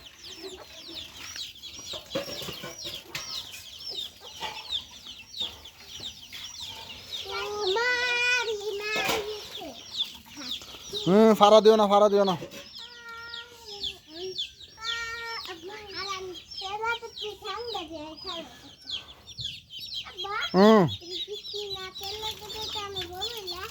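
Chickens cluck repeatedly at close range, with bursts of louder squawking, while a person speaks briefly over them.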